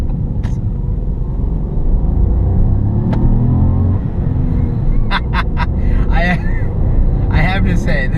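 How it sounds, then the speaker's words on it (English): A turbocharged 1.0-litre three-cylinder Ford Fiesta drives along with a loud, steady engine and intake drone, while high squawky sounds and short chirps break in near the end. "The intake roar and the turbo sound."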